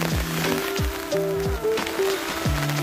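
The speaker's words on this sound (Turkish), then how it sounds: "Çok güzel bir yağmur yağıyor." Rain falls on a Başkent Karavan Ares 310 towed caravan at a seaside campsite in Şile, a steady close patter broken by repeated heavier drops landing in an uneven rhythm.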